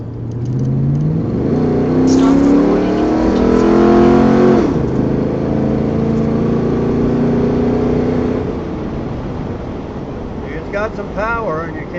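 A 1968 Chevrolet Nomad engine revs and accelerates loudly on a test drive, its pitch climbing through the gears. Someone talks over the steady engine roar inside the cabin.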